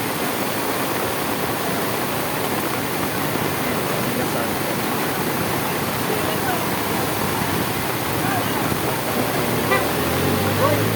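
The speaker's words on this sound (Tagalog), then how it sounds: "Malakas na doon yung tubig. Ang lakas ng ulan." Heavy typhoon rain pours down beside the swollen Tullahan River, a loud, unbroken roar of rain and rushing water, with occasional car horns and traffic mixed in.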